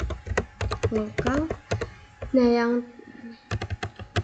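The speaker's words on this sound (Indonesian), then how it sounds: "Kemudian kita ketikkan login" Keys clatter on a computer keyboard as a login command is entered for remote access, in short irregular bursts of close taps between stretches of speech.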